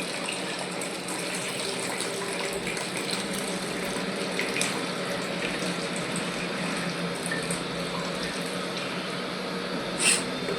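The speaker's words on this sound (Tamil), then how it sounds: "புளி தண்ணி கெட்டி புளி தண்ணி தான் ஊற்றணும்" Thick tamarind water pours steadily into a pot of fish curry, a constant wet rushing and splashing sound with a faint clink near the end, no voices.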